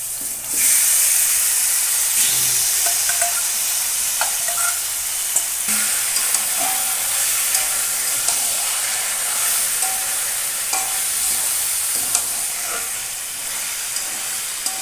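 Chicken hits fried onions in a hot wok and sizzles loudly and steadily up close, with scattered clicks and scrapes of stirring throughout.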